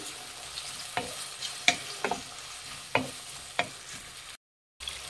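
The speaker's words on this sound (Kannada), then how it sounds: "ಒಂದೆರಡು ಟೊಮೆಟೊನ ಸಣ್ಣದಾಗಿ ಹಚ್ಚಿಟ್ಕೊಂಡಿದ್ದೀನಿ ಫ್ರೆಂಡ್ಸ್. ಸಣ್ಣದಾಗಿರೋದು ಹಾಕ್ತಾ ಇದ್ದೀನಿ. ಮಿಕ್ಸ್ ಮಾಡಿ" Chopped tomatoes stirred into frying onions for spicy chicken chilli chops, a steady sizzle broken by several sharp spoon scrapes against the pan, close and alone.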